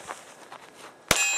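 A single sharp metallic clang, like a Glock 23C round striking a steel target at night, rings out near the end and is left ringing bright and sustained. Before it there is only faint background noise.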